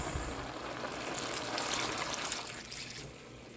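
Swamp water pours steadily into a soup pot in a horror game, a continuous trickling gush that fades near the end, with no talk.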